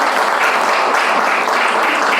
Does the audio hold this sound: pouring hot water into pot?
no